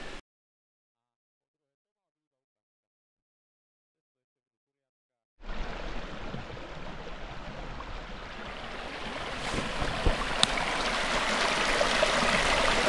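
After several seconds of silence, a small brook in a forest starts up as a steady, close rushing and trickling of water that swells slightly and carries on without a break.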